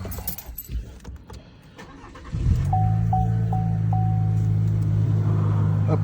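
Keys jingle before a 2023 Chevy Silverado 1500 with the 2.7 HO engine and a blow-off valve, sound matting removed, cranks and catches, settling into a loud, steady, close idle with a faint whine on top.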